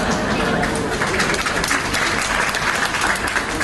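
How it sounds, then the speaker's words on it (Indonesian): Church congregation clapping during an Indonesian sermon, a dense, steady wash of applause and crowd noise filling the whole stretch, with a voice talking over it. "Gak usah kau tepuk tangan."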